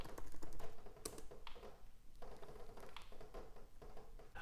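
Typing on a computer keyboard to enter a Python library install command, a quick run of close, fairly quiet key clicks with no talking.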